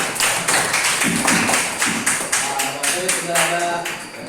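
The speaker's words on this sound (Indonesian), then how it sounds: "Ya, tepuk tangan, bagus sekali" A class claps hands in a fairly regular, rhythmic pattern, loud and close, with a voice speaking briefly near the end.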